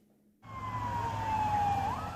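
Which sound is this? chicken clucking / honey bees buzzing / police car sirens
police car sirens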